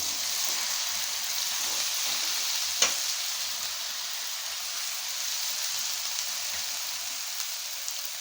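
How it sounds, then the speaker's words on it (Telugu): Washed fenugreek leaves frying in a pan for a moong dal curry, a steady soft sizzle and crackle close by with a single sharp tap of a utensil, no talk. "మెంతం కూరని వేగనియాలి."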